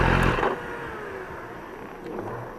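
BMW S1000RR motorcycle exhaust, a loud rev at the start that falls into crackling pops and burbles as the engine settles.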